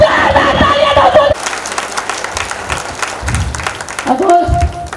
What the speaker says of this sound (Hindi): यहाँ पे जितने लीडर आए सबके लिए जोरदार तालियां दोस्तों